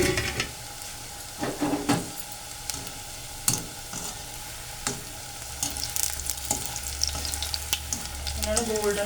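Pakoras fry in hot oil in a kadai, giving a steady crackling sizzle with sharp pops and the clink of a utensil stirring now and then, close and fairly loud, with no voices.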